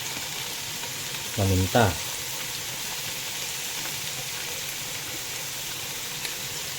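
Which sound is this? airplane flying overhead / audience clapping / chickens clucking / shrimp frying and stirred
shrimp frying and stirred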